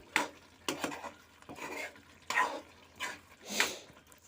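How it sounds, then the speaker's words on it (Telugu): A spoon mixes spices through a potato and soy chunk curry in a pan, giving faint, spaced scraping strokes about every half second with a light sizzle underneath. "ఈ మసాలా స్పైసెస్ అన్నీ వేసుకోవాలి వేసుకొని ఒకసారి అన్నిటిని బాగా కలుపుకోవాలి"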